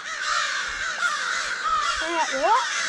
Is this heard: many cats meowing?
no